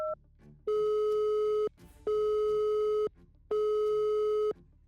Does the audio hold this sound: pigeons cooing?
no